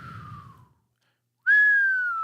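A person whistles through the lips, a short falling tone that breaks off, then after a pause a single clear, loud sustained whistled note held to the end.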